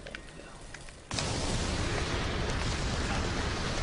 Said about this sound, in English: I'm supposed to be blowing people up.